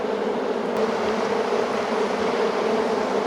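A crowded honeybee colony hums steadily while its hive is opened for inspection, a dense, continuous buzz close by with no talking.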